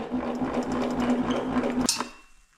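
Power saw cutting wooden window sills made from roof battens, a steady humming motor whine that runs for nearly two seconds, then stops with a sharp clack and quickly dies away.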